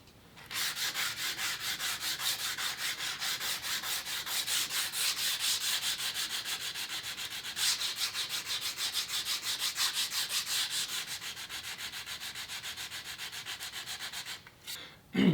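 Steady hand sanding with 100 grit sandpaper, stripping an old finish off wood, scrubs on continuously in fast, even strokes at close range, then stops with a brief knock at the end.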